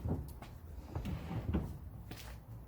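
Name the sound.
full-extension slide-out drawer in van opening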